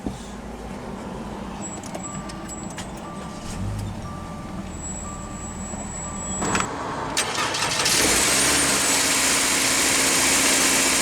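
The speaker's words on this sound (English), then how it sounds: "we'll go ahead and start the engine, and along with Smart Key, it does have push-button ignition." 2021 Subaru Crosstrek Sport started by push button: chimes and alert tones beep inside the cabin, then the starter cranks and the engine catches into a steady, close idle.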